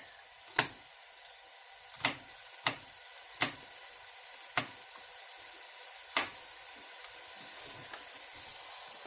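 Chopped garlic frying in a pot of oil for curry chicken makes a constant soft sizzle, broken by about seven sharp knocks or clicks spaced irregularly across the stretch, with no talking.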